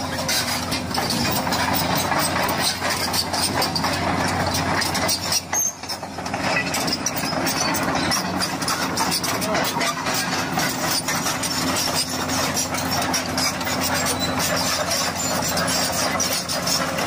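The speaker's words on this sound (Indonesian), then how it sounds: "Untuk meratakan tanahnya, bulldozer siap bekerja." A bulldozer engine rumbles steadily at close range while leveling ground, a deep continuous drone with a brief dip partway through.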